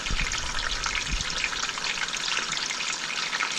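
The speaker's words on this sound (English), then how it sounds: "we'll let it sit in the frying pan for like 3 minutes on each side" Indian mackerel fish frying in a frying pan over high heat, giving a steady, close crackling sizzle with dense hissing throughout and no talk.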